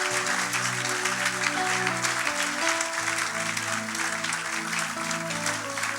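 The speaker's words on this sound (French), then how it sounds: "Quelqu'un peut acclamer très fort le Seigneur." Church congregation loudly acclaiming the Lord with sustained applause and cheering, a dense continuous crowd roar with sustained tonal voices or music running beneath it throughout.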